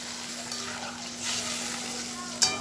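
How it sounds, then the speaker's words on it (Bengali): Water goes into a spiced morola fish curry in a hot pan and sets off a steady, close sizzle with some stirring and a brief metallic clink near the end. "কষানো হয়ে গেছে, মানে একটু জল দিয়ে দিচ্ছি"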